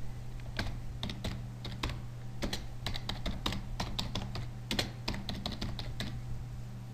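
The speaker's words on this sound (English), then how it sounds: "Type the message subject." Steady typing on a computer keyboard while entering an email subject line in bulk-mail software, with crisp, irregular key clicks in quick bursts over a constant low hum.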